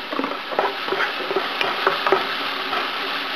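Minced onion sautéing in a pan after browned garlic, with a spoon stirring through it in irregular scrapes and light clinks over a steady, soft sizzle, heard close and alone.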